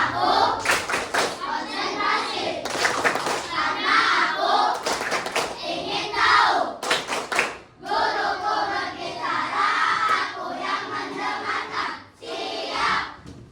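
Schoolchildren in a classroom clap together in the tepuk konsentrasi ice-breaking game, with loud bursts of group handclaps and chanting voices throughout, broken by brief pauses.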